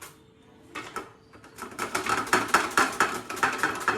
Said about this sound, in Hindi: तो सबसे पहले मैं प्याज को कट कर रही हूँ, और जो ये प्याज कट करने वाला है मैं इसी से करती हूँ।